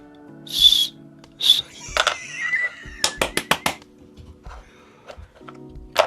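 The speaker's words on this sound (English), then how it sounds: "They're whistles. It's a whistle. They're whistles." Short whistle tones come from the Cosmic Artefact Inscape puzzle box, a handful of bright, separate toots and chirps spread across a few seconds, close and fairly loud against a quiet background.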